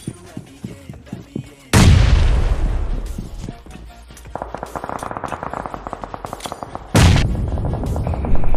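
Groza assault rifle in the mobile battle-royale game BGMI: a loud blast near the two-second mark, then rapid sustained spray bursts firing in quick succession, and another heavy boom near the end.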